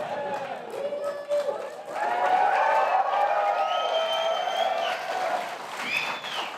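Applause at the 2023 White House Tribal Nations Summit: a large audience claps steadily as a dense, continuous wash that swells after a couple of seconds, with a speaker's voice carrying over it.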